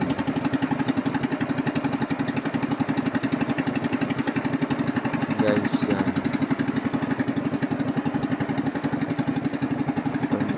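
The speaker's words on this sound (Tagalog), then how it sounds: "dalawang makina na yung gumagana dyan." A steady, loud drone with a rapid chugging rhythm from two boat engines working hard at sea near Balabac, with a brief voice speaking over it.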